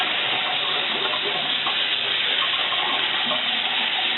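Asparagus spears being rinsed under a running kitchen tap, a steady, close, continuous splash of flowing water with no voices.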